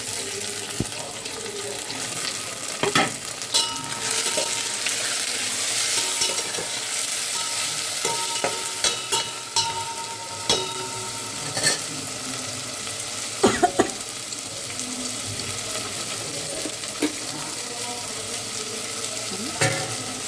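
Sliced onions frying in a pan for homemade chicken biryani give a steady sizzle over twenty seconds, broken by scattered clinks and stirring scrapes, with faint background noise throughout.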